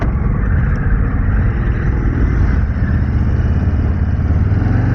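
Harley-Davidson Low Rider S motorcycle engine pulling hard under acceleration, a loud, deep, continuous rumble with steady throb and wind roar throughout.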